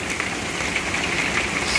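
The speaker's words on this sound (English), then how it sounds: "Look, like a hailstorm. Woo. It is coming down." Hail pours down outdoors in a steady, dense hiss of countless small impacts on the ground and plants, constant and fairly loud with no pauses.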